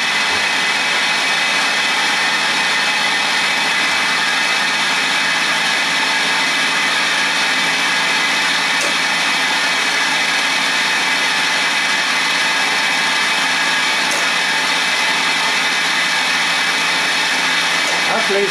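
An oil pump circulates oil through a Schaublin feed gearbox, a constant loud whirring hum with steady tonal whine, unchanging throughout.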